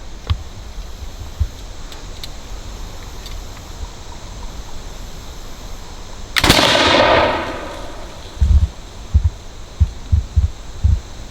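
A single loud matchlock musket shot at a clay target, a sharp crack followed by a broad rolling boom that fades, set against steady outdoor hiss, with a few soft thumps afterward.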